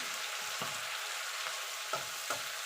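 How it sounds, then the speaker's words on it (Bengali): Spices with Kashmiri chili powder fry in oil for a vegetarian radish ghonto, a steady soft sizzle broken by a few low knocks of stirring, faint and without voices. "এবার মশলাটাকে ভালো করে কষিয়ে নেবো যতক্ষণ মশলা থেকে কাঁচা গন্ধটা চলে না যাচ্ছে"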